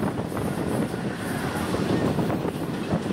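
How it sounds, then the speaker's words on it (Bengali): A local passenger train on the Agartala–Sabroom line in Tripura rumbles steadily along the rails, a dense continuous roar with faint rhythmic clatter heard from inside the carriage. "ট্রেন আগরতলা থেকে ছেড়ে 14 কিলোমিটার পথ অতিক্রম করে তার দ্বিতীয় অফিসিয়াল হল্ট বিশালগড় রেলওয়ে স্টেশনে এসে পৌঁছালো।"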